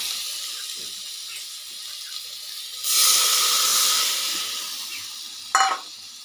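A bowl of water hits fried spice paste in a hot pan for a fish curry, bursting into a loud steamy hiss that slowly fades over a quieter sizzle, with a brief clatter near the end and no talk.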